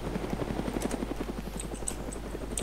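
A helicopter in the DayZ video game chops away steadily at a distance, its rhythmic rotor thumps fairly faint and continuous with no talk.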